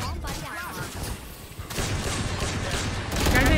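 Gunfire in the first-person shooter Valorant, with rapid shots and mechanical clatter layered over players talking excitedly through dense game noise.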